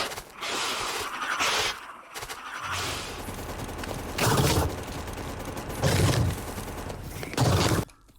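Bursts of automatic gunfire from combat in the game Factorio come in several separate volleys, each lasting around a second or more, with short quiet gaps and booming impacts between them.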